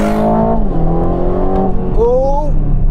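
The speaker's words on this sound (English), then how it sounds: "Left foot on the brake hard, floor the throttle. Race start active." A 2024 Aston Martin V12 Vantage, 700bhp supercar, launches hard from race start, its engine roaring up through rising revs, then a brief gear change before climbing again, loud and close.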